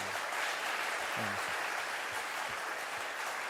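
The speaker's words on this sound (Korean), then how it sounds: "그분들 위해서 격려의 박수 힘차게 드리겠습니다." Church congregation applauding in encouragement during a Sunday service, a steady dense wash of many hands clapping at once, sustained and even throughout with no voices standing out.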